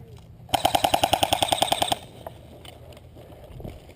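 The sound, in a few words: airsoft guns shooting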